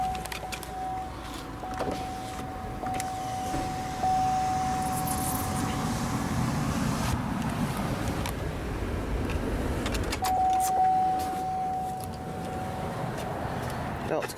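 Power window motor of a 2005 Chevrolet TrailBlazer LT whirring in two stretches, a steady hum of several seconds each, heard inside the cabin over faint background noise and some light knocks.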